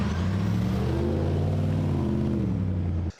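Restored and modified 1966 Ford Bronco driving, its engine a steady low rumble heard from inside with gentle rising and falling pitch, continuous until it cuts off at the end.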